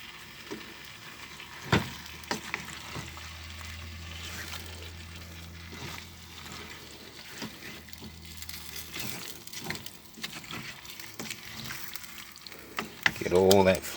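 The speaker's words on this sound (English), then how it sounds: "Give it a good stir around." Prawn curry being stirred in a pan, soft sizzling and spoon scraping with a low simmering bubble, faint overall, ending in a brief louder clatter.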